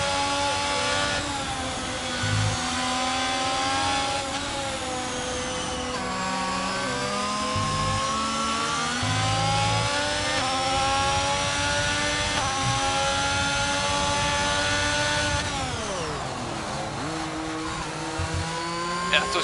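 Race car in a racing video game, engine whining steadily along a straight with rising and falling pitch sweeps as it accelerates, loud and continuous, with no talk.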